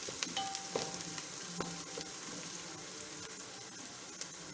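Green chillies frying in a pan for an aloo matar bharta, with a steady sizzle and scattered stirring scrapes and clinks, close and alone.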